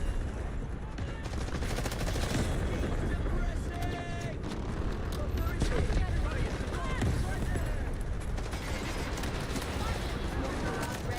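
Rapid gunfire in the online shooter game Wildgate, dense bursts of automatic shots layered over a constant rumble, loud and continuous beneath someone talking.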